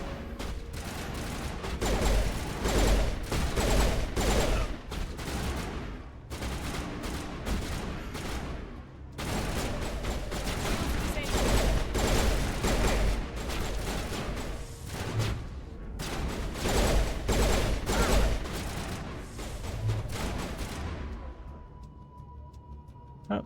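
Sustained gunfire in a Mass Effect battle, dense rapid bursts of shots with short pauses, loud and continuous for over twenty seconds before trailing off.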